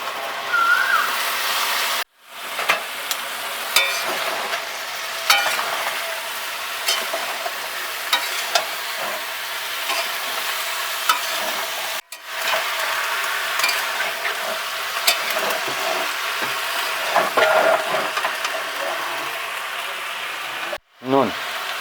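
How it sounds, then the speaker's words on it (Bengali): Boiled jackfruit poured into hot spiced oil in a village kitchen, frying with a continuous loud sizzle and hiss while a spoon scrapes and stirs throughout, with brief pauses. "এবার দেবো এঁচোড়টা যে সিদ্ধ করা হয়েছিল সেটা ঢেলে দেবো।"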